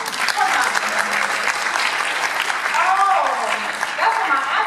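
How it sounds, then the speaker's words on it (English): Audience at a District 10 Toastmasters speech event claps steadily for the mothers in the room, a dense, continuous wash of hand claps with faint voices mixed underneath throughout. "if you're a mother, clap your hands"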